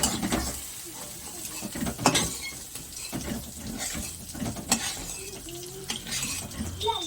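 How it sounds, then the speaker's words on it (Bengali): Vegetables frying in a pan for home-cooked chow mein, stirred with a utensil: a low, continuous sizzle under intermittent scraping and knocking strokes, with a few louder clacks, all fairly close. "তারপরে সবজিগুলোকে ভেজে নেবো।"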